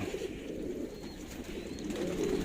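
Racing pigeons coo softly and continuously in a loft, with low, murmuring calls overlapping. A gentle hum from the surrounding space runs underneath.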